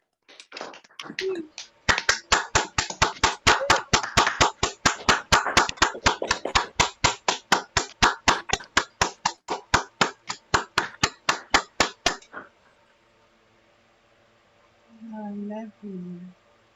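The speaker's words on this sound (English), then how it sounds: "Please, everyone, unmute yourself and give them a big and warm applause." A single person claps rapidly and steadily, about forty sharp close claps for roughly ten seconds, for an online award ceremony audience, followed by quiet and a brief voice.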